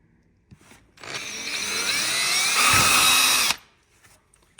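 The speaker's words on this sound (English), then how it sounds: "we'll drill these all the way through" A power drill whirs up loudly and bores pilot holes through a snowmobile ski for about two and a half seconds, pitch shifting under load, then stops abruptly.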